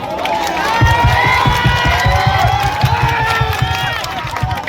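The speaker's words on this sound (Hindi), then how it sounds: "वो लीडर शेर का स्वागत मैं चाहती हूँ कि आप लोग जो है जोरदार तालियों से करें एक बार।" A large crowd at an outdoor election rally cheers and claps loudly, with a steady roar of voices and scattered shouts that hold at a high level throughout.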